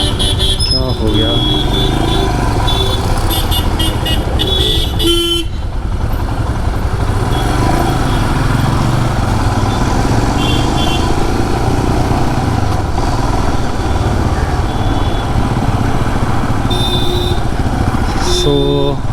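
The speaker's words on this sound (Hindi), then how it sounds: "भयंकर ट्रैफिक" Heavy road traffic packed with motorcycles and cars, engines droning and revving loudly and continuously nearby with occasional horn beeps, while a person talks over the din.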